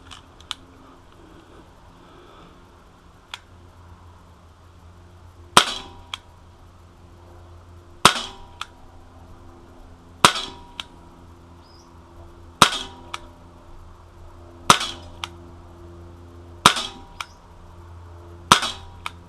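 A Sig Sauer ASP P226 CO2 blowback .177 caliber pellet pistol fired on a tabletop. About eight sharp, crisp cracks ring out one at a time, roughly two seconds apart, close by and with no talking.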